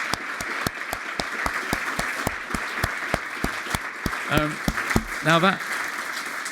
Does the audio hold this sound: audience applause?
yes